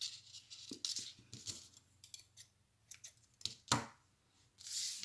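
Scissors snipping thread while finishing a doll's head, several crisp close cuts spaced unevenly across the moment, with small rustles of thread and fabric between them.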